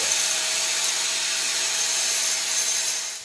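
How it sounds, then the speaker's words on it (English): An angle grinder cuts through a dirt bike chain held in place with pliers, giving a steady, loud, high-pitched grinding hiss that runs unbroken for about three seconds, with no voices over it. "I use a grinder."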